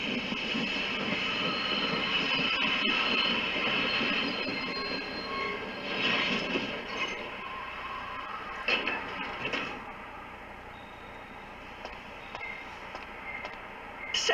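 The Blackstone Railroad train in Dark Cloud 2 runs with a steady rolling rumble and clatter of wheels, faint squeals and hiss, sustained for many seconds before easing slightly.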